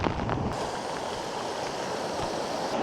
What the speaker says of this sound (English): So I hope you can hear me amongst all this water.